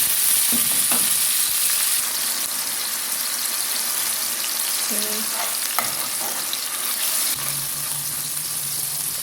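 Scallion, onion, sweet peppers and hot pepper frying in coconut oil for Jamaican ackee and saltfish, a loud continuous sizzle close up with occasional utensil knocks and stirring, no talking.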